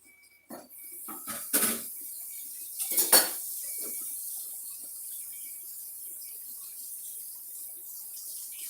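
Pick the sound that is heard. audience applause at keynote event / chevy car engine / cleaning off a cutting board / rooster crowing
cleaning off a cutting board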